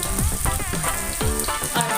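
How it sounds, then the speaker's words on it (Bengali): Cabbage fritter balls fry in hot oil, making a steady, loud, dense sizzle like heavy rain that continues without pause, with no talking. "এবার হালকা করে একটু ব্রাউন করে ভাজবো"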